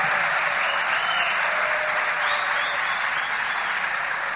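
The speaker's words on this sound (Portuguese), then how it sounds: "Vamos dar um forte aplauso ao teu patrocinador que te deu essa oportunidade." An audience at a business event applauds a sponsor with steady, dense clapping that stays loud and even throughout, with no pauses.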